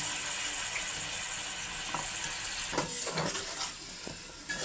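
Cleaned fish pieces, including the head, are dropped into a simmering mango fish curry, pulusu, amid a constant close hiss of bubbling, with a few soft plops and splashes.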